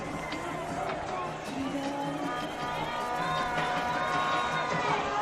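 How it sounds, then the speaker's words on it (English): A crowd at a varsity football game keeps up a steady roar of cheering and shouting, with a commentator's voice over it, and the noise swells louder toward the end. "Crowd is certainly fired up"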